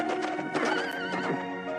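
A horse whinnies loudly and continuously over steady clip-clopping hooves, with no voices heard.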